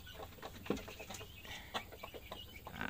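A group of chickens clucking and chattering together nearby at afternoon feeding time on a chicken farm, with scattered short calls over a steady farmyard background.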